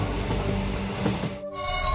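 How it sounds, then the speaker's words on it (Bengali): Train running in a cartoon ghost story, a steady close rumble and clatter of wheels that cuts off briefly before a bright tonal hum returns, no talk. "ট্রেনটা চলতে চলতে এবার একটা স্টেশনে এসে থামল।"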